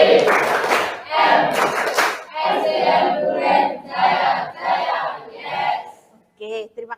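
A classroom of students clapping on cue in a rhythmic cheer, rapid bursts of claps with chanting voices in several short phrases, loud and close, ending with a few scattered sounds.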